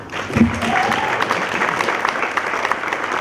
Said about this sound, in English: So a big round of applause for you too.